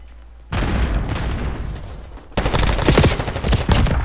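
Loud gunfire and a blast in Call of Duty Warzone, bursts of automatic fire crackling after a sudden thump, then heavier rapid shots and booms continuing to the end, no talking.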